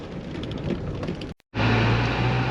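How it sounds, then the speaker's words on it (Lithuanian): Heavy rain pours down on a farm as a loud, dense roar that cuts out abruptly for a moment, then returns just as strong with a low steady hum underneath. "Rodė be lietaus, o dabar va varo."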